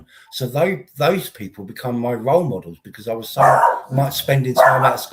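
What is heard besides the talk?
dog barking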